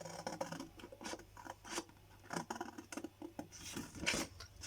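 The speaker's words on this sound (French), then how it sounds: "on va venir couper un petit peu en biseau" Scissors cutting a milk carton at an angle, a run of soft, close snipping and scraping strokes at an irregular pace, with no talking.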